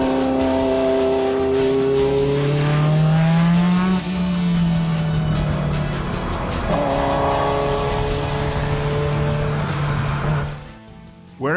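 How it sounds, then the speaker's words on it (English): A Ferrari 288 GTO Evoluzione races on a track, its engine note rising and falling through gear changes as it passes close and loud, with tire squeal and a brief drop in level near the end. "Here's a rare chance to see a 288 GTO Evoluzione in racetrack"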